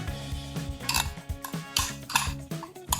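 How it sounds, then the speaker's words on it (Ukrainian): A spoon clinks and scrapes against a dish in quick, irregular taps and clatters, close and fairly loud, as dressing is added to a salad. "Беремо ложку і додаємо у салат заправку."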